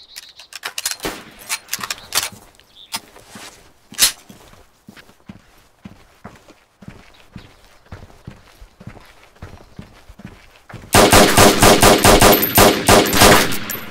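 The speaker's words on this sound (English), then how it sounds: "I'm getting shot at." Gunfire in the survival video game DayZ comes as scattered single shots and clatter, then ends in a loud, dense burst of rapid automatic fire lasting several seconds.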